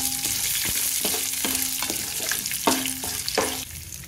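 Curry leaves frying in a pan for uggani, a steady close hiss and crackle of hot oil with several sharp metallic clinks of a spoon against the pan.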